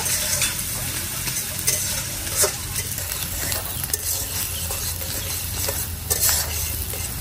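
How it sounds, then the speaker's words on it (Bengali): Chopped onion sizzles in hot oil in a wok with cumin, bay leaves and dried red chillies, stirred by a spatula; a steady close frying hiss with scraping strokes and no talk. "পেঁয়াজটা হালকা একটু ভাজাও।"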